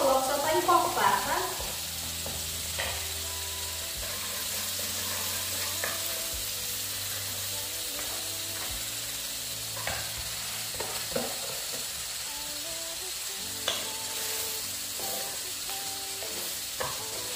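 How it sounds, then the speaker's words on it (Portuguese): Pumpkin cooking in a pan gives off a soft, steady sizzle with occasional light clicks and stirring sounds, close but quiet, continuing throughout. "Eu coloco a abóbora e deixo ela cozinhar."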